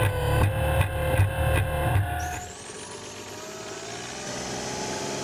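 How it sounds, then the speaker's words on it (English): The LS3 robotic mule's engine runs with a loud, throbbing rhythmic drone, then winds down to a quieter, steadier hum with a rising whine. "We are testing out the LS3. It's a robotic mule."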